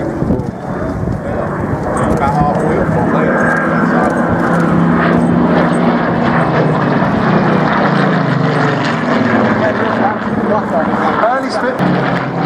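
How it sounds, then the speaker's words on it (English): An early Spitfire flying at the Wings and Wheels airshow at Dunsfold in 2014, its piston engine droning loudly and steadily as it passes, with wind buffeting and a person commenting over it. "Early Spitfire."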